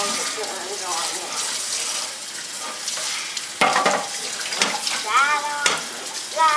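Running water pours steadily while a pool noodle is rinsed off, a broad hiss with splashing bursts toward the end, and a voice speaks briefly over it.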